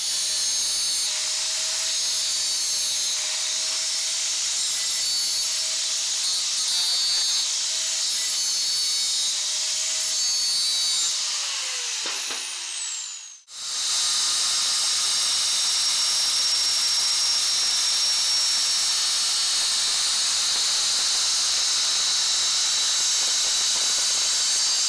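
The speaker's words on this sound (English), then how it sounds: "take this 3-inch piece of Schedule 40. I'm going to cut it in half. Then I'm going to rip it in half lengthwise." A power saw rips a 3-inch Schedule 40 pipe lengthwise, a loud continuous high whine and hiss of the blade in the material that drops out briefly, then resumes as a steady cutting roar.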